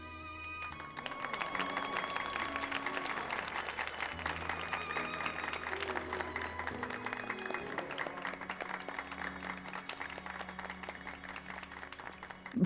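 A crowd in Final Fantasy XIV applauds in a sustained, even wash of clapping beneath a musical score, fairly quiet and continuous throughout.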